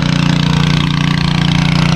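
Newly installed engine on a water-haul rig running while a water tank fills, a loud close rumble with a fast, even pulsing throb that carries on without pause.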